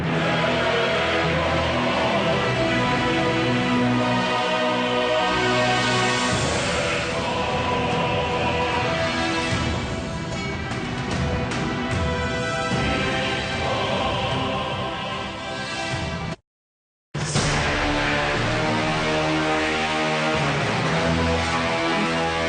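Orchestral soundtrack music composed for the video game Warhammer 40,000: Eternal Crusade, dense and loud throughout with full instrumentation, cut by a brief silent gap near the end before resuming.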